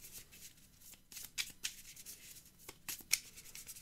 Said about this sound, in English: I shuffle it in.